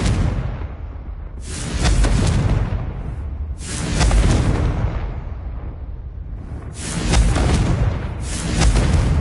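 Repeated blasting-spell explosions from the fantasy video game Hogwarts Legacy, several loud booming bursts a couple of seconds apart, each with a sharp crack and a rumbling tail, heard alone without talk.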